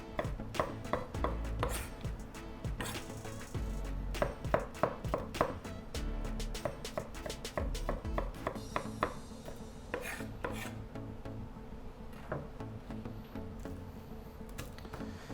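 Food diced barehanded with a knife on a cutting board, a long run of quick, irregular chopping taps and rasping scrapes close by, with no talk.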